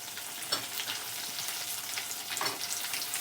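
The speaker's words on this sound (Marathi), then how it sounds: "चार पाच मिनिटं पूर्ण तेलामध्ये तळून घेणार आहे ही वांगे" Eggplant (brinjal) fries in oil with onion, garlic and masala, giving a steady, dense sizzle with brief swells as it is stirred. The frying is close, continuous and has no voices.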